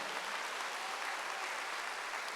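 A church congregation applauding during a Wednesday worship service, a steady dense patter of many hands clapping at an even level throughout, with no voices over it.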